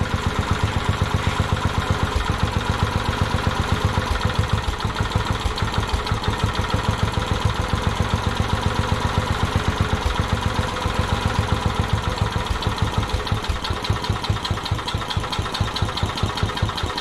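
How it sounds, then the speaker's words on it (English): Toro Wheel Horse lawn tractor engine, after sitting over ten years, idles very low with a steady, rapid, loping chug, close and loud throughout. "I don't remember it ever idling that low before."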